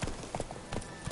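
Horse hooves galloping in a video game, a quick run of soft rhythmic clip-clop thuds over about a second, moderately faint.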